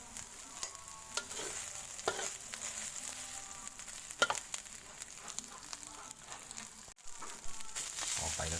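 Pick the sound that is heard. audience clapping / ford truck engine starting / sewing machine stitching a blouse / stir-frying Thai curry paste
stir-frying Thai curry paste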